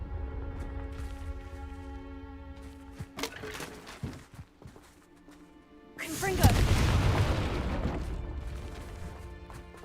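A Confringo blasting curse in Hogwarts Legacy hits with a loud, broad explosive burst that rumbles and fades over a few seconds. Before it come lighter thuds and clinks, and a voice speaks faintly.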